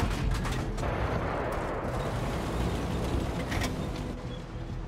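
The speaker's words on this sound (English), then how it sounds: "I'm just randomly shooting." Tank cannon fire from the game World of Tanks rumbles as continuous booming. The low, dense blasts overlap into a loud, unbroken roar for the whole stretch, with no talking.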